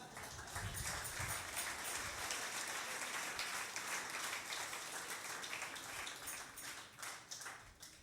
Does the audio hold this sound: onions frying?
no